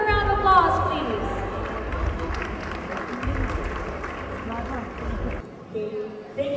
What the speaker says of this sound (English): Shall we give her a round of applause, please?